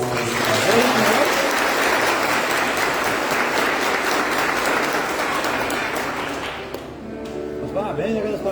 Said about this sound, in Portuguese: Mais uma salva de palmas para esse casal.